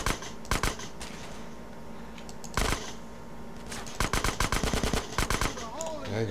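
Gunfire rings out in GTA San Andreas, with isolated shots early, then rapid clustered bursts of automatic fire later, sharp and fairly close over a steady background of game ambience.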